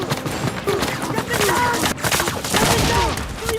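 Bursts of MG42 machine gun fire mixed into a dense, loud fusillade of overlapping shots, with a voice speaking over the gunfire throughout.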